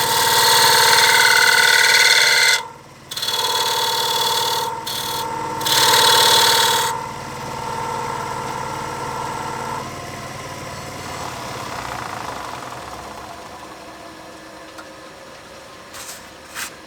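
A wood lathe spins a workpiece while a tenon is trued up, giving a loud, steady whine broken by brief dips as the tool lifts off, then settling into a softer, fading hum as the cut ends.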